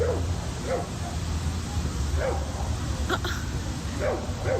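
A dog barks and yips several times at a distance over a steady background hum, the barks spaced irregularly.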